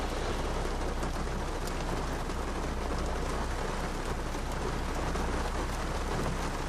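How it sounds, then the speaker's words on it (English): Heavy rain pours during a severe thunderstorm, a loud, unbroken roar of drops hitting surfaces close by, with a low rumble underneath. "Starting to get some rain."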